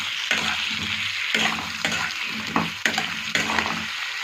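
Potatoes, tomato and pointed gourd fry in a pan, with a steady loud sizzle broken by several scraping stirs of a spatula at regular intervals, close up and without any voice.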